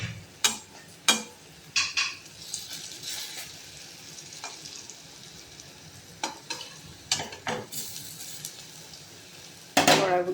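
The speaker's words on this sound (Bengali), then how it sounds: "বড়াগুলো ভেজে তুলে" Fritters fry in a pan with a steady sizzle, broken by sharp clinks and scrapes of a utensil against the pan and a louder clatter at the end.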